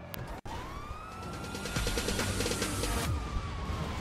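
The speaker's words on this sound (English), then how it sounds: "Oh, I can hear some sirens." Police sirens in the video game GTA 5 wail from a distance and grow louder as they approach, with a sharp cut near the start and rising, layered warbling tones.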